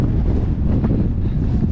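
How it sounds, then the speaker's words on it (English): Steady wind buffets the microphone on a steep mountain path up a glen on a showery day, a continuous loud low rumble with no other sounds. "Quite a windy day today."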